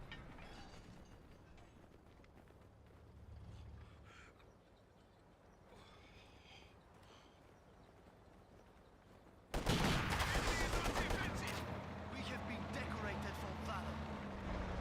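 Grenadier squads firing rifles and machine guns in Company of Heroes 2, first as distant scattered gunfire and then as a loud, dense burst of battle noise, with someone talking over it.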